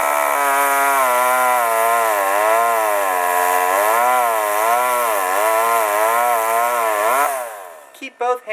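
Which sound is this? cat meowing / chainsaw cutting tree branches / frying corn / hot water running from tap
chainsaw cutting tree branches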